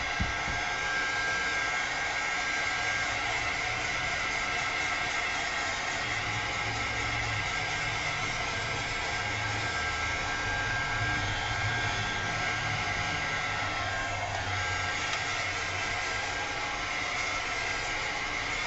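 A hair dryer blows steadily for the whole stretch, drying paint on a mixed-media junk journal cover, a loud, even whooshing hum with no pauses.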